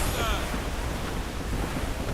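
Ocean waves roll at sea in the Assassin's Creed Rogue video game, a steady, dense, wind-blown wash of surf that stays loud and unbroken from start to finish.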